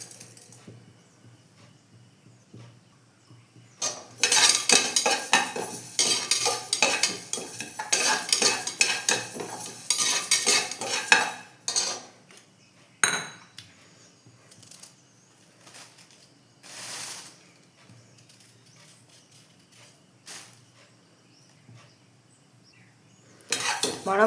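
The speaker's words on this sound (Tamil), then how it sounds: "இப்போது இந்த பாசிப்பருப்பை வந்து உள்ளே போட்டு ரோஸ்ட் பண்ணிடலாம்" Dry moong dal roasted without oil in a pressure cooker and stirred with a metal spoon, a dense stretch of scraping and rattling grains, then sparser clinks and scrapes.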